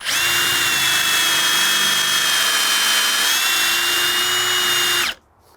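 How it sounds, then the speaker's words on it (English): A power drill fitted with a hole saw bores into a wooden door during a keypad lock installation: a loud, steady whining drone holds for about five seconds, then cuts off abruptly. "Boom, ready to drill."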